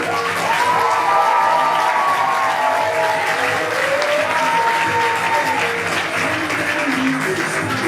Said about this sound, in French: je veux un tonnerre d'applaudissements pour Loralie Saint-Arnaud, première secondaire, et Sophia Gomez